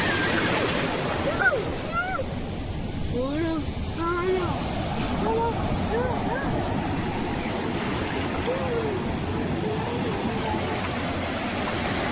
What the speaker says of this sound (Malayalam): നമ്മളിപ്പോ ഇവിടെ ഇങ്ങനെ തിരമാല എണ്ണിക്കൊണ്ടിരിക്കുകയാണ്.